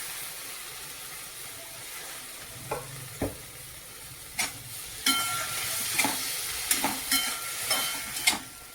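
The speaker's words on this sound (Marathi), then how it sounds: "आता मसाला व्यवस्थित झाल्यानंतर याच्यात मी उसळ टाकून देते." Sprouted moth bean usal being stirred into masala in a pan, a soft steady sizzle with occasional scraping strokes of a spoon that grow louder and more frequent toward the end, no voices.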